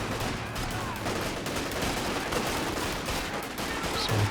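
Kübelwagen machine gun in Company of Heroes 2 peppering away in rapid bursts, dense sustained gunfire within a noisy battle soundscape.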